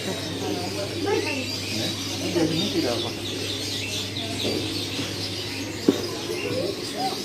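Many caged birds chirping and calling at Pramuka bird market in Jakarta, a dense busy chorus with market bustle and people talking nearby throughout.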